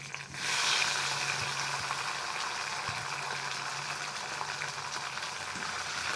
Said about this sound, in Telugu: ఇట్లా పచ్చిమిర్చి అయితే డీప్ ఫ్రై అయితే చేసుకున్నాను అనమాట.